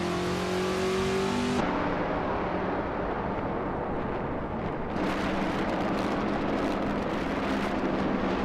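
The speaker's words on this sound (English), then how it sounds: "Askeister French Stars is driving a 1970 Plymouth Superbird" A 1970 Plymouth Superbird race car in a racing video game roars under sustained engine drone, a steady revving note that drops in pitch and then swells back up, loud and close with no talk.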